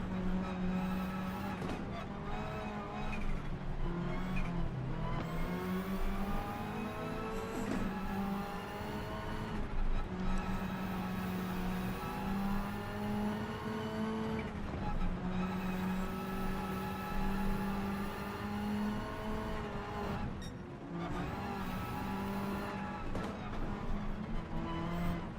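A stock car engine in Gran Turismo 7 drones steadily, its pitch rising and falling with throttle and gear changes, and it keeps going throughout with short dips between shifts.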